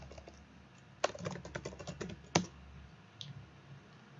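Website address typed on a computer keyboard, a quick burst of clicky keystrokes with a couple of louder taps, close and alone, then a pause and one last soft press.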